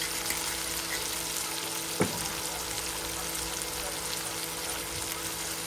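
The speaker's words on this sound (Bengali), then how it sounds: "দিয়ে এখন একটু ভালোভাবে কষিয়ে নিচ্ছি" A steady, hissing sizzle of spices with roasted cumin and salt frying in a pan runs throughout, with one sharp clack of a utensil partway through.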